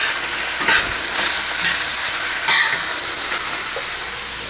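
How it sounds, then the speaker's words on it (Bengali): Small shrimp fry with onions in a pan for a ridge gourd bhaji, making a steady close sizzle broken by a few stirring scrapes and bursts. "চিংড়ি মাছটাকে পেঁয়াজের সঙ্গে একটু ভাজা ভাজা করে নেব"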